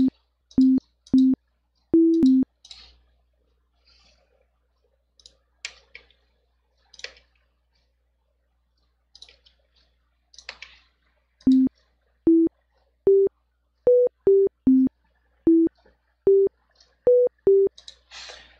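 Chiptune synth notes with no release, each short square-ish tone cutting off abruptly; a sparse run of clipped notes, a quiet stretch with faint blips, then a quicker melodic sequence of staccato notes, loud and alone.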